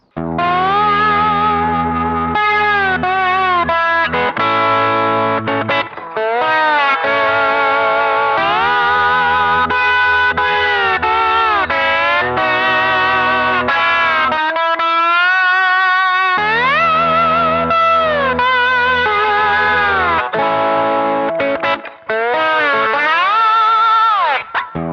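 Distorted electric guitar drenched in effects, playing sustained chords and bending lead lines with chorus and echo, loud and continuous throughout.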